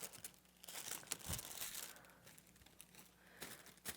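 Thin paper being glued and pressed onto a fish lantern frame gives soft, close crinkles and crackles in irregular bursts, quiet and with no talking.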